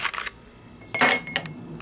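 A few brief clinks and rattles as ice cubes drop into a cup, quiet and close, with two small bursts separated by a short pause.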